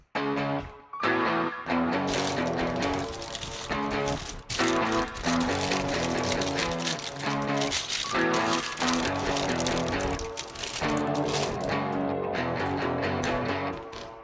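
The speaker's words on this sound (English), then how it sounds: "when you listen to the whole melody stem here, it sounds like this." The full melody stem of a track plays as a dense, loud layered mix of many small sounds, with guitar prominent, holding steady for about fourteen seconds with brief dips and no speech.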